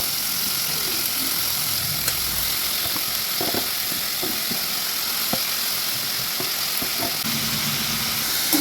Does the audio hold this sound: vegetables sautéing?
yes